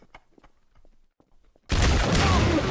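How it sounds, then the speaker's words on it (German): In the video game Trouble in Terrorist Town, a sudden, loud burst of rapid automatic gunfire erupts after a stretch of faint scattered sounds and continues without a break to the end. "Ich habe auf alles geschossen, was da war."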